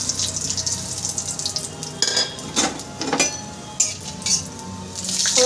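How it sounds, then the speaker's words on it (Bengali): Crushed black pepper, cloves and cinnamon sizzle and crackle in hot mustard oil, with loud bursts of spattering and a few clinks of a utensil against the pan, close and without talk. "আমি এর মধ্যে থেতো করা গোলমরিচ, লবঙ্গ আর দারচিনি ফোড়নে দিয়ে দেবো।"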